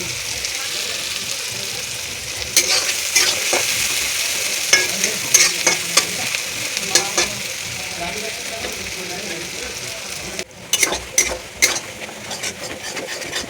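Onions fry and sizzle in a pan with a steady hiss, broken by repeated scraping stir strokes for a chicken and potato jhol curry; there is no talk.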